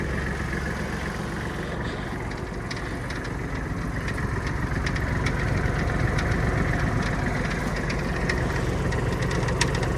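Kubota GL-25 mini tractor engine running at maximum speed in fourth gear, a steady, loud, close diesel drone with a knocking rumble that holds throughout and rises slightly partway.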